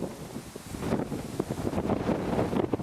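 Kansas wind blowing outdoors, a loud, gusty rush buffeting the microphone with no pause and no talking.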